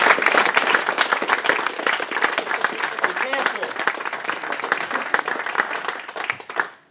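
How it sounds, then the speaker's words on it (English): Audience applause at the Great British Hobbit League final awards in 2014, with sharp, closely packed claps that stay loud and dense for several seconds, then fade away near the end. "Big round of applause for them."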